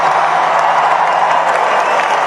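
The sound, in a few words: crowd cheering at a Trump speech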